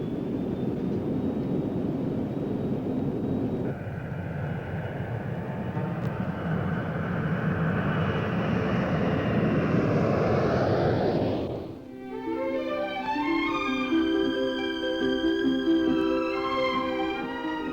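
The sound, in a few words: Boeing 757 jet airliner flying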